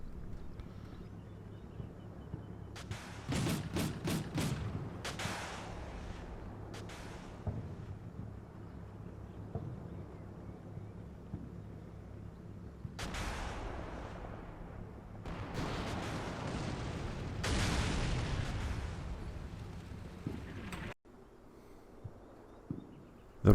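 Volley of gunfire and explosions in the Cold War tactical game Combat Mission Cold War, with bursts of repeated sharp shots, heavy booming blasts and a rumbling battlefield background, fairly distant and without voices.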